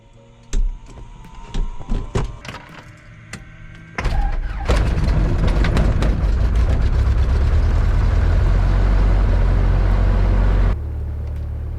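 A Cessna 172 propeller engine sputters through a few uneven firing bursts, catches, then settles into a loud, steady close-up idle rumble that drops slightly in level near the end.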